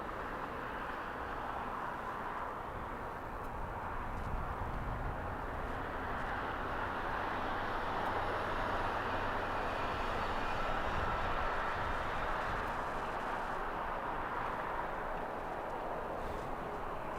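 An aircraft taxis for takeoff at LAX, a distant, continuous engine roar that holds steady throughout with no voices.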